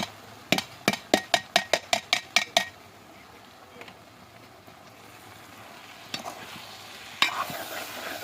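Chillies dropped into a hot pan of frying food for a Ramadan home meal, a rapid run of sharp clinks or taps at the start, then a low steady sizzle with a few scattered scrapes and knocks.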